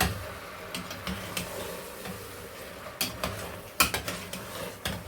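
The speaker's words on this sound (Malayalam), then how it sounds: "നന്നായിട്ട് ഇളക്കി കൊടുക്കാം." Mutton biryani mixture with lemon juice is stirred in a pot: quiet scraping and clinks of a spoon against the vessel at irregular intervals, with a soft sizzle underneath.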